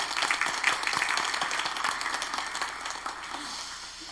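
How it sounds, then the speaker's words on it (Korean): A congregation at a Wednesday church service claps in encouragement for the worship teams, a moderate burst of applause that slowly fades. "박수 한번 더 하도록 하겠습니다."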